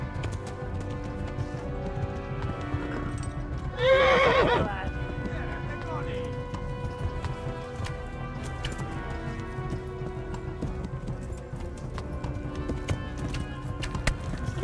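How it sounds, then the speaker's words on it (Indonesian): A horse in Kingdom Come: Deliverance gallops with steady clip-clopping hooves and lets out one loud, sharp whinny near the start, set against rain and game ambience while a player talks over it. "Ini kuda lari."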